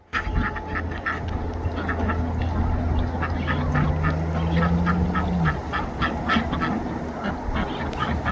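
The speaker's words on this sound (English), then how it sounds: "All his ducks are going out." Ducks in a backyard flock quack and honk repeatedly, with calls overlapping in a busy, continuous chorus that is fairly close, with no talking.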